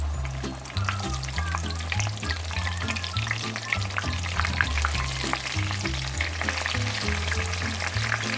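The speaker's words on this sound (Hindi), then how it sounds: "इस तरफ तो मेरे ये बैंगन तले जा रहे हैं" Eggplant pieces frying in hot oil in a kadhai give a loud, continuous sizzle with crackling pops and occasional stirring scrapes, close up and steady throughout, with no talking.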